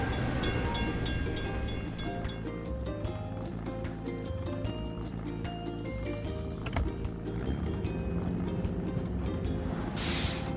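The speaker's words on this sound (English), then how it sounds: "We have to wait for the train to pass." Cartoon train rumbling past a closed crossing gate in a children's truck-building video game, a steady loud rolling rattle with layered tonal music-like lines throughout, ending in a bright burst of noise.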